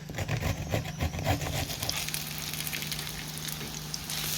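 Steady sizzling and crackling of oat flour and egg pancake batter frying in a hot pan, close and continuous, with a few faint clinks early on.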